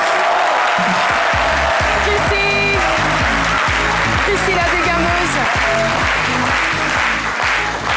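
Studio audience applause on a midday television show, continuous rhythmic clapping from a crowd, with a presenter's voice speaking over the start and some music underneath.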